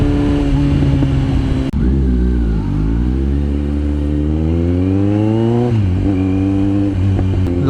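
A Kawasaki Z900 motorcycle exhaust roars loud and close, its pitch climbing steadily through the gears, then dropping and climbing again as the rider accelerates.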